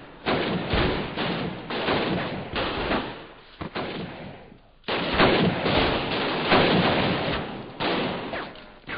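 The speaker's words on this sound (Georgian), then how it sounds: "ბათუმში სროლა ისმოდა." Gunfire rings out during fighting in Batumi as Turkish troops take the city in 1918, heavy thudding shots and bursts coming in loud clusters with brief pauses between them.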